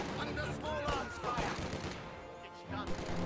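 Rifle gunfire from riflemen in a strategy video game, rapid overlapping shots and crackling bursts rolling continuously under busy game sound, fairly loud and dense.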